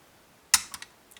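A sharp metallic click from a Mottura lock pin as it is picked, followed by a couple of fainter ticks, close and quiet.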